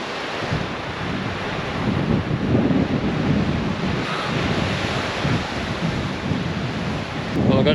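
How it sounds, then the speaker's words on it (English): Strong wind roars continuously across the microphone at Pender Bay on the Dampier Peninsula, loud and gusting, mixed with a surf-like wash and no talking. "Bit windy, bit overcast,"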